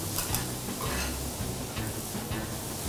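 Egg fried rice with onions is stirred and tossed on a hot iron griddle, with a steady close sizzle and intermittent scraping of the spatula.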